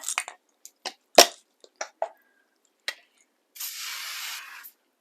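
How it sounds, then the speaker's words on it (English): A short hissing spray burst onto a pizza tray follows a series of sharp clicks and taps, close by with no talking. "Alright, give it a spray."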